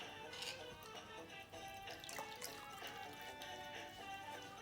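A cotton cloth soaked in water gives soft wet splashes and light drips in a quiet setting, with a few brief sloshing bursts spaced across the moment.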